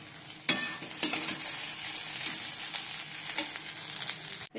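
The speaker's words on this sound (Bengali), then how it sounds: "কড়াইতে তেল দিয়ে দিই তেলও গরম হয়ে গেছে এবার আলুগুলো দিয়ে দেবো" Cut potatoes dropped into hot oil in a wok, crackling and hissing steadily at close range with several sharp spatters and stirring knocks, no speech.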